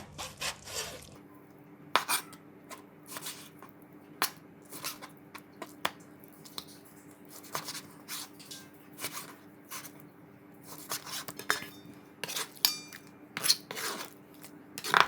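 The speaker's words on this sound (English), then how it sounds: "cut the pork belly into bite-sized pieces" A sharp knife cutting pork belly with skin, fat and meat into bite-sized pieces on a board, a series of irregular crisp chops and taps spread across a quiet kitchen background.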